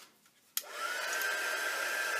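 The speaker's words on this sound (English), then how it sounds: "I'm just going to dry that off." A hair dryer clicks on after a short quiet moment and settles into a steady, close, high-pitched whirring blow as it dries acrylic paint.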